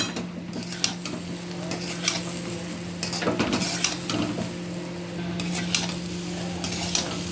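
Khichuri of gobindo bhog rice and mung dal, seasoned with turmeric and salt, stirred in a pot, with a spoon scraping and clinking against the metal over a soft sizzle and a steady hum, no talking.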